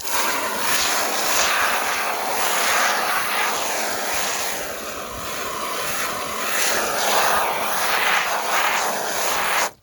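A garden hose on jet setting blasts a hard spray through a dark tie-dyed shirt over a bucket, a loud, steady hissing rush of water that pulses in intensity as the stream moves across the fabric.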